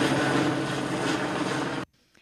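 A police helicopter flies overhead during a large manhunt by more than 100 officers near a highway and sugarcane fields, giving a loud, steady rotor and engine roar that cuts off abruptly.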